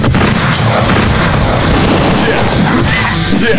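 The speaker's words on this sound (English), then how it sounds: "Missiles fire." Missile fire from a Mugen fighting game match, heard as a dense, loud barrage of booming blasts that fills the whole stretch without pause.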